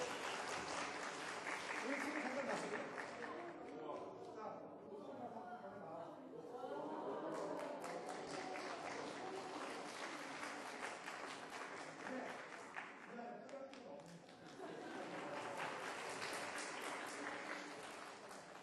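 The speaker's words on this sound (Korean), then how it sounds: "박수 한번 쳐주시고" A church lecture audience breaks into sustained applause that swells, dips and swells again over nearly twenty seconds, a full room of hands clapping at moderate distance.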